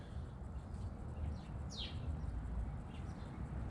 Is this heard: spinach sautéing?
no